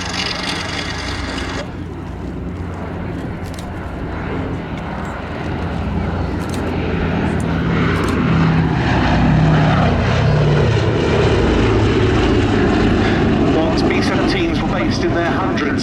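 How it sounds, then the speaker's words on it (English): The B-17 Flying Fortress Sally B making a solo flypast at the Duxford summer air show, its piston engines droning and swelling as it passes, with a commentator talking over it. "This is now the only airworthy flying fortress in Europe"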